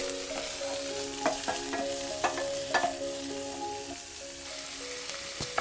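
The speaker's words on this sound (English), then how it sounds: "Saute the onions until they turn translucent." Chopped onions sauté in hot oil with two dry red chilies, making a steady sizzle broken by repeated clacks and scrapes of stirring against the pan, all close and without speech.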